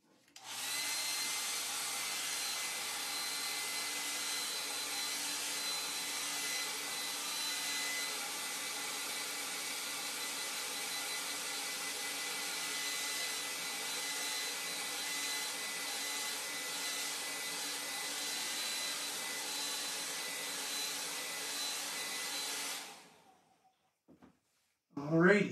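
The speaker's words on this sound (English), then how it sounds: "Sorry about all this hair dryer." A hair dryer runs without a break for about 23 seconds, drying watercolor paint during a painting demo. The steady whir stays loud and even, then cuts off abruptly, leaving a brief shuffle of handling sounds.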